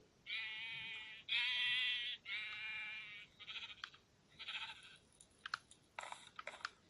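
Sheep in Minecraft Skyblock bleat three times in quick succession, loud and close with a wavering tone, followed by softer scattered clicks and short bursts of game noise.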